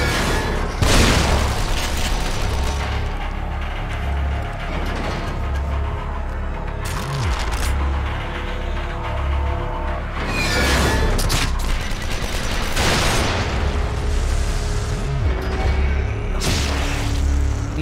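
Repeated deep booms and blasts burst out amid clattering sound effects from the horror game The Evil Within, with several loud explosions spaced irregularly over a busy, noisy background.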